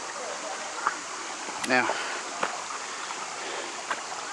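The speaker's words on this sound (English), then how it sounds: "This must be a feeder stream right here, see?" Small feeder stream flowing into a creek, a steady broadband rush of water with someone speaking briefly over it.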